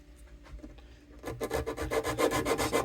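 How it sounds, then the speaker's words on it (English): Sanding block rubbed over guitar neck wood during a Takamine or Gibson neck reset, a steady rhythmic scraping rasp that starts faint and grows louder and denser, close and alone. "Where's my sanding block?"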